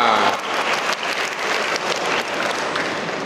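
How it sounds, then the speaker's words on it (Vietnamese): Church congregation of adults and children clapping at a priest's invitation during a Sunday homily: a loud, dense burst of applause that stays steady for a few seconds, with no speech over it. "Vỗ tay to."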